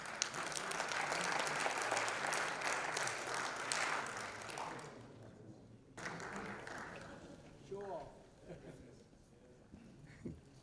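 Audience applause welcoming a congressman at a US-India partnership celebration: sustained, dense clapping from a crowd that fades after about five seconds, followed by scattered claps and a voice speaking over the thinning room.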